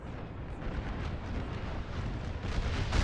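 Massed musket volleys from four or five regiments in a Napoleon Total War battle, a dense continuous rumble of overlapping gunfire with no talk, rising slightly toward the end.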